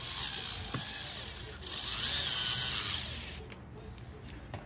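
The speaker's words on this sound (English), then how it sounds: "Tighten her up. I just put one screw in the front end of it." A screw is tightened into the front differential of a Traxxas X-Maxx RC truck during gear shimming, giving a faint, close mechanical ratcheting and turning sound with soft clicks, without any talking.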